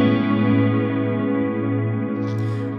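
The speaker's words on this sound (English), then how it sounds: "Medium speed for the modulation and a lot of depth to get a lot of movement through the modulation right here." An electric guitar plays a sustained chord through modulation and ping pong delay pedals, set to medium speed with heavy depth, producing a dense, shimmering, wavering tone that rings continuously and loudly without any voices.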